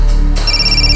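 A phone rings with a bright electronic ringtone, repeating tones sounding close and loud, with no talking over it.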